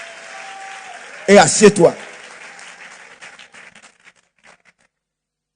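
A church congregation bursts into a short burst of applause and cheering during a Sunday service, loud for under a second or two, then fading into scattered claps and murmurs as a voice speaks.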